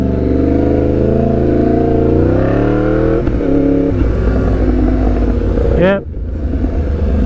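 A motorcycle ridden along a tight turning line: a steady engine drone whose pitch swells and shifts as the bike leans through the turn, with a brief voice over it.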